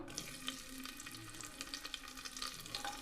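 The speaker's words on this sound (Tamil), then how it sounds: "வெங்காயம் நல்லா வதங்கட்டும்" Chopped onions sauté in a pan with cardamom, stone flower and star anise for a brinjal gravy, giving a faint, steady sizzle dotted with small crackles and pops.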